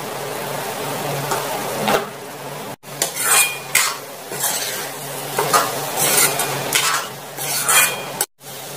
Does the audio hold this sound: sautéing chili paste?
yes